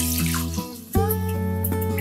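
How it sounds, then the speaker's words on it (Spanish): Milk pours steadily into a cornflour roux for gluten-free ham and chicken croquettes, a continuous liquid splash that briefly dips and then resumes, close and alone without voices. "incorpora la leche"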